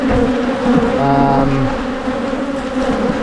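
Honey bees buzz at an open hive of winter bees in late summer, a dense, steady drone filling the whole stretch, close and loud, with no voices over it.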